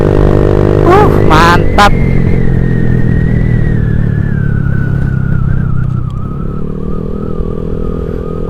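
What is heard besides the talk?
Honda Vario 150 scooter with Black Devil exhaust revving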